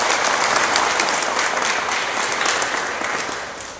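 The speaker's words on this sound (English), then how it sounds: "let's give Christy a round of applause." A large audience applauds at a civic announcement event in Sacramento, loud continuous clapping that fades gradually toward the end, with no speech over it.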